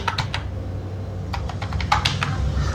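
Rapid, uneven keystrokes on a computer keyboard as an Aadhaar number is entered, close and fairly soft over a steady low background hum, with bursts of clicks separated by brief pauses.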